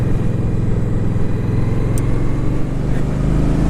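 An Indian Scout 60 motorcycle engine drones loud and steady while the bike is ridden, with a constant low rumble and wind buffeting throughout.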